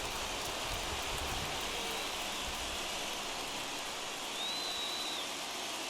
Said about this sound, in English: the conditions aren't ideal with the rain coming down